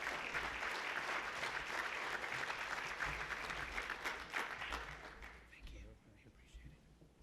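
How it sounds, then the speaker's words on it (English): Audience applause for a Government Service Award recipient at a Latino community event honoring veterans, a full burst of crowd clapping that gradually thins and fades to scattered claps, with some voices audible in the crowd. "So a big welcome and a big applause to Mr. Rodrigo Garcia"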